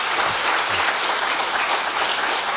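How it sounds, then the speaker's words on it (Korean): Dense, steady audience applause fills a forum hall as roughly seventy high school students are welcomed, a continuous wash of many hands clapping at even loudness. "환영의 박수, 격려의 박수 한번 보내주십시오"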